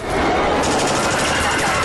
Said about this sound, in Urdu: رات کا آخری پہر، گولیوں کی تڑتڑاہٹ